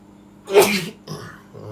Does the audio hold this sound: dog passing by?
no